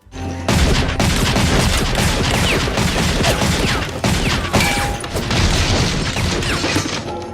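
Dense, chaotic gunfire from a Beretta 92FS during a hectic shootout scene in the film Léon: The Professional: loud overlapping shots and crashing impacts that pour in without pause from about half a second until the end.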